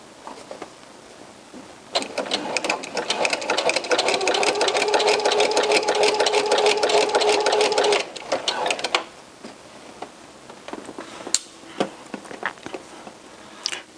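A domestic sewing machine stitches a T-shirt in a steady, loud whirring run of about six seconds, then a few brief shorter bursts and scattered clicks follow.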